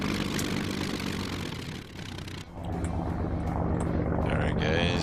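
Ju87 Stuka propeller plane engine in Arma 3, a loud, continuous droning roar heard close, dipping briefly in the middle before swelling back with a rising whine.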